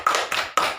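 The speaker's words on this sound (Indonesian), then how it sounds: "Tepuk tangan dulu buat temannya." Children in a classroom clap for a classmate, three sharp, quiet claps in quick succession with no talking.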